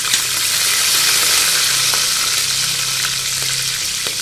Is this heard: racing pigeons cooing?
no